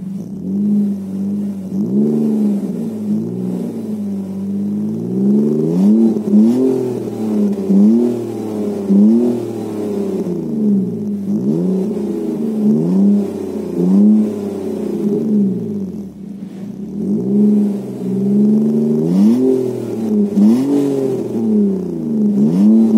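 A 1999 BMW 323Ci E46 with a straight sport rear exhaust revs repeatedly, rising and falling in a deep, throaty note, with short idle dips between each rev, close and loud.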